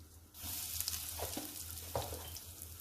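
Asafoetida (hing) hits hot mustard oil in a pan, giving a sudden, steady hissing sizzle with a few soft crackles, fairly quiet and heard alone.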